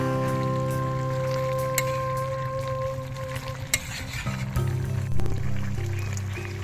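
Mixed vegetables cook in a pan while a spoon stirs them, giving a steady sizzle with scraping and clinking, near and fairly loud, with no speech over it.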